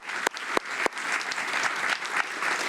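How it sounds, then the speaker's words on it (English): An audience at a county State of the County event applauds steadily, with a few sharp, loud claps standing out near the start before the dense clapping settles into an even wash. "Let's have another round of applause."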